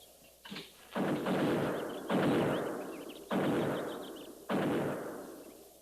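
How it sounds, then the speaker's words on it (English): Buffalo guns firing in a 1950s western radio drama set around Fort Laramie, four heavy booming shots spaced about a second apart, each rolling off in a long echoing decay, distant and alone. "Buffalo guns. That's one sound they can't muffle."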